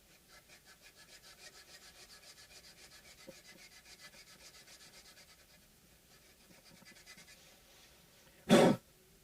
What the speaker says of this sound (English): now we got to even it out, and I'm going to even it out with the this sandpaper here